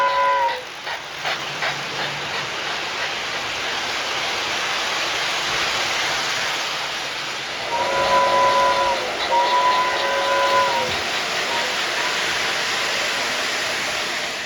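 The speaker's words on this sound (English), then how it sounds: "it features those ultra prototypical sounds of steam that work perfectly with our ultra prototypical 3-rail track system" Steam whistle blasts with a continuous hissing chuff from a model train set running on 3-rail track: a short toot near the start, then two longer two-tone whistles in the latter half over steady steam hiss.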